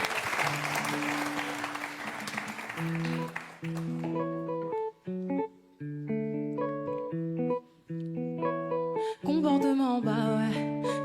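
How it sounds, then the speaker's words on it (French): At a live performance, an audience applauds loudly for a few seconds before the clapping fades under sustained synth notes that take over the rest of the passage. "sous les applaudissements du public en chaleur"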